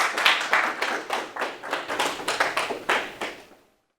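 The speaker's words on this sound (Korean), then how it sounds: "박수로 맞아주시기 바랍니다." A lecture hall audience claps to welcome a philosophy professor giving a special award lecture, a steady run of distinct claps at moderate loudness that thins out and stops abruptly, leaving silence.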